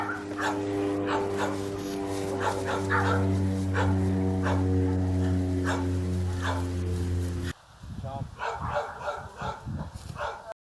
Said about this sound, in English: my dog is in the way again.